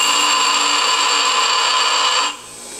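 A bench grinder working low carbon steel for a spark test gives a loud, steady, close whine with strong tonal lines, which drops off abruptly near the end.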